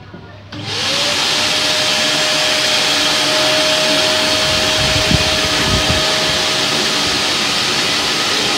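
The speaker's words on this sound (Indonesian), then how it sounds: "vakum yang sudah ada tambahannya dust collector" A vacuum cleaner fitted with an added dust collector switches on and spins up within a second to a loud, steady roaring whine with a sustained tonal hum, then runs continuously with a few brief fluctuations, alone and unaccompanied by talk.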